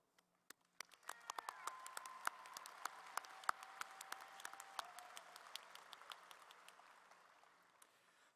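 At a Southmoore High School Class of 2023 commencement ceremony, a few scattered claps swell into sustained crowd applause that lasts several seconds, faint and distant, before slowly fading.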